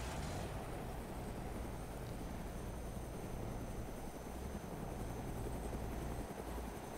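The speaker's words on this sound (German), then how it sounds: "Ich lass den Heli laufen wegen dem Großen" A helicopter in the DayZ Epoch video game runs continuously with a steady low rotor drone and engine whine, faint and constant throughout with no talk.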